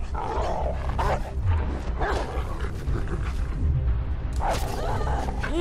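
A dog in the video game Beyond Two Souls barks and growls in several rough bursts, loud and close, with a voice speaking between them.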